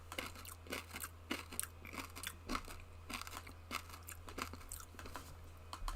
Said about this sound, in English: There was a lot of crunch in that snack.